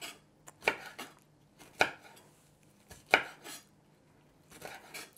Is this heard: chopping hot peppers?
yes